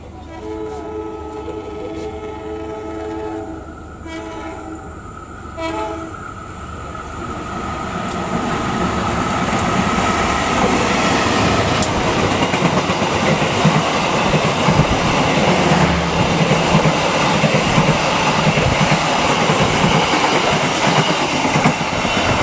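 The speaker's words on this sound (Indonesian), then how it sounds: "Dan ini adalah kereta api Sri Tanjung yang saya naiki sekarang." The Sri Tanjung passenger train in Indonesia rolls along the rails, heard from aboard, starting with a horn-like tone, then building into a loud, steady rumble with rhythmic clatter of wheels.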